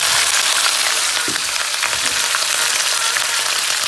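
Pork ribs for soy-braised red-cooked ribs sizzle and fry loudly in a pan, a dense continuous crackle with a few stirring scrapes, no voices.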